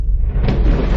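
A deep, low rumble of thunder rolls for about a second, loud and close.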